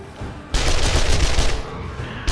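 Rapid automatic fire from a 9mm gun in the survival game 7 Days to Die, a dense, loud, unbroken burst lasting nearly two seconds after a quieter lead-in.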